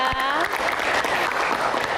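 A television studio audience of university students applauds the panelists, steady dense clapping throughout at moderate loudness.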